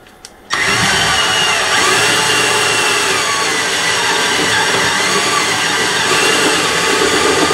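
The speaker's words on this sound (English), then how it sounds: "went out and to the garage and used the AC powered drill" An AC-powered electric drill bores holes in a metal chassis for a vacuum tube preamp build, a loud continuous whining motor roar that starts abruptly and holds steady for several seconds.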